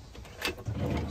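A cutlery drawer in a Devon Aztec camper van slides open with a short, soft rolling rumble, close and quiet, no voices.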